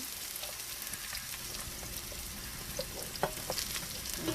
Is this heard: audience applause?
no